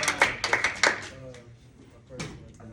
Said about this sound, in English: Clap it up for Brandon again.